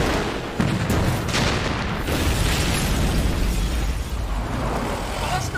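A car's petrol tank explodes after being shot, a dense roaring blast that fills the whole stretch with loud rumbling and crackle, close and sustained.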